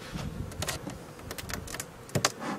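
Honeybees inside a queenless, orphaned hive being inspected give off a low, faint, continuous buzz, with a few slightly louder swells near the end and no talking.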